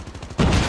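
Gunfire in the mobile shooter game Call of Duty Mobile, a quick run of rapid automatic shots bursting into a louder dense volley at the end, very brief.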